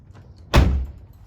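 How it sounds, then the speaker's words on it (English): A car door on a Mazda RX-7 FD shuts with a single close, heavy thud that fades out quickly, with no voices. "Then shut the door,"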